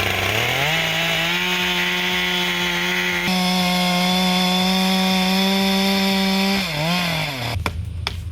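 A chainsaw cuts a tongue-and-groove notch into a tree, its engine holding a loud, steady high whine close by before the revs drop away near the end.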